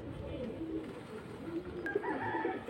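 Pakistani pigeons coo softly in a low, rolling murmur, faint and continuous, with a brief bright chirp near the end.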